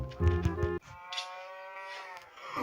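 A cow in the video game Minecraft gives a short, loud, close moo when struck, followed by a quieter electronic tone and faint game sounds, with no voices.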